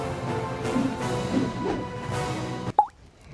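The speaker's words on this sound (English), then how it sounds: "I can cast and get this line out" Fishing line from a tiny survival kit, cast by hand without a reel, lands in the water with a single sharp plop near the end after a stretch of wind-blown outdoor rumble.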